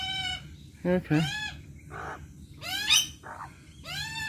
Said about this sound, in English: Magpies everywhere.